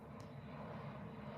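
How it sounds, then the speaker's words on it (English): Jet airplane from a live stream at LAX airport: a steady, faint broadband engine roar held at a distance throughout, with no voices over it. "If you guys hear airplanes in the background"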